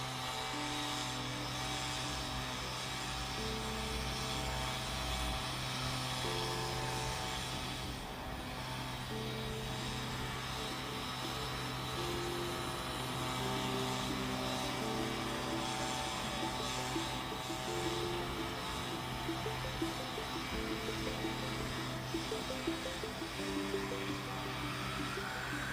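A leaf blower roars continuously and close by, blasting leaves off a house toward the curb in a steady, unbroken whoosh with slight shifts in pitch.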